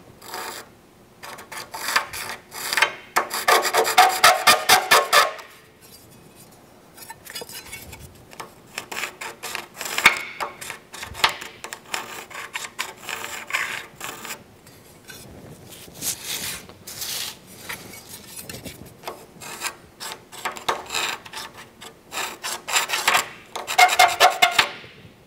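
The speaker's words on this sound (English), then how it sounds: "Using our sheet metal marking gauge, we are going to use both the 3/8 and 3/4 inch increment." A sheet metal marking gauge scribes lines on sheet metal in bursts of dry rasping and scraping, close and fairly loud, with pauses between strokes and no talking.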